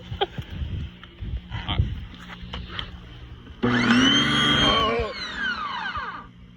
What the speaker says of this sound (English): Got the new pressure washer.